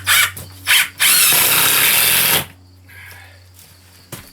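A power drill whirs loudly up close in three bursts as it drives 3-inch screws through layered furring strips into a wooden stud. Two short spins are followed by a longer sustained run, then quieter workshop noise.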